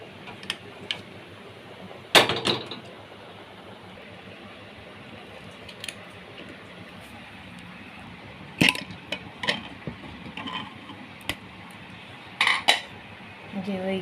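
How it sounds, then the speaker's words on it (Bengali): A lid clatters onto a pressure cooker in a home kitchen, with several sharp metallic clanks and rattles spaced apart over a low background hum. "তখন কুকারে ঢাকনা লাগিয়ে দিন।"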